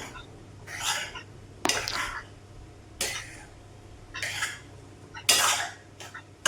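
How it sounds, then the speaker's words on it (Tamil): Semiya kesari with cashews stirred in a pan on the stove, several separate bursts of metal spoon scraping and clinking against the pan, close and clear with quiet gaps between strokes. "போட்டு அப்படியே கிண்டி விட்டுக்கலாம். முந்திரி பருப்பு எல்லா பக்கமும் கலக்கட்டும்."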